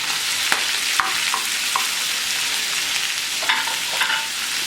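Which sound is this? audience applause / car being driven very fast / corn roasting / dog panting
corn roasting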